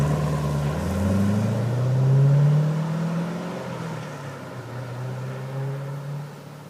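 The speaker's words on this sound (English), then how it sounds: "we're going to watch this car pull away. You can watch it drive up the street." A 1998 Chevrolet Corvette Pace Car pulls away up the street, its engine rising in a swelling low drone as it accelerates, then easing and fading gradually into the distance with no one speaking.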